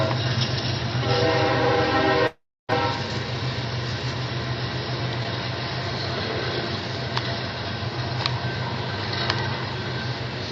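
A train in a video game rolls past with a continuous loud rumble and a horn blast near the start, and the sound cuts out for a moment before the clattering wagons carry on.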